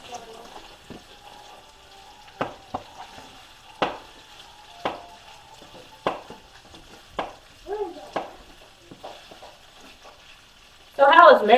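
Food browning in a frying pan gives a soft, steady sizzle, punctuated by sharp clinks and scrapes of a utensil stirring against the pan, with a louder burst of clatter at the end.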